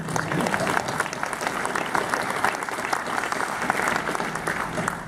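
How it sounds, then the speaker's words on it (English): An audience at a sports hall of fame induction ceremony applauding, steady sustained clapping from many hands for several seconds, dense and even throughout. "You clap, that's okay."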